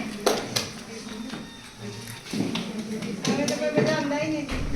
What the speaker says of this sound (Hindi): उल्टी ताली कैसे बजाते हैं?